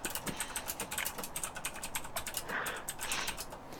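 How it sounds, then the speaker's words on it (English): Rapid, steady typing on a computer keyboard, a dense run of light clicking keystrokes heard fairly close and alone, with no voices. "I'm typing to John"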